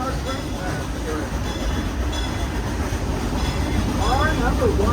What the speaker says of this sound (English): Still letting our train pass through.